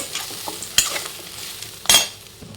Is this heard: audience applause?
no